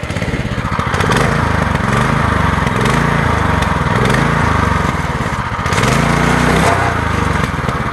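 A small engine on a motorized drift trike runs loud and close, its buzzing drone rising and falling in several revs as the foot throttle is worked, with no talk over it.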